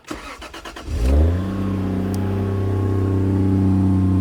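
A Toyota 1JZ engine in a Crown with a closed downpipe cranks and starts, then settles into a deep, smooth, fairly quiet idle with a low exhaust rumble, close by.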